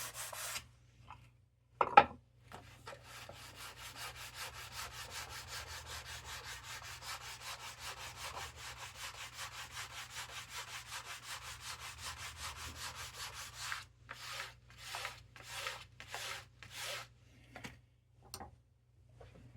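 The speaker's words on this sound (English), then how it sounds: "All this is doing is just scuffing everything off, and then I'll finish it with some 600 sandpaper" A Remington 878 shotgun's wooden stock is hand-sanded with sandpaper: after a couple of sharp knocks, a long run of quick, even rubbing strokes continues, then breaks into slower, separate scuffs toward the end, all fairly quiet and close.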